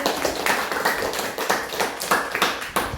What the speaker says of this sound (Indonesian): berikan aplaus untuk Fatin dan Adit